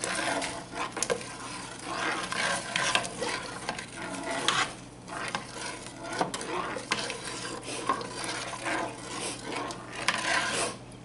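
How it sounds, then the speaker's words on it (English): Metal spoon stirring wild plum jelly in a pot, giving repeated scraping and clinking strokes against the pot at close range, steady throughout with no talk. "Notice I'm using a metal spoon to cook this, you know, to stir this with."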